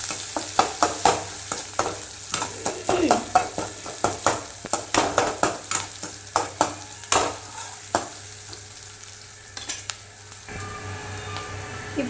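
Onions and chana dal fry in a pan under a steady sizzle while a spoon scrapes and knocks the pan in repeated strokes, close up, with no talking.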